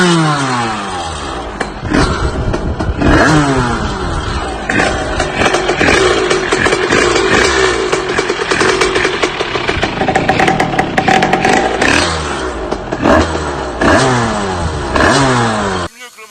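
Motorcycle fitted with a new Most high-pass exhaust (110-80 model), revving loudly and repeatedly up and down close to the microphone, with sharp throttle blips between idling stretches.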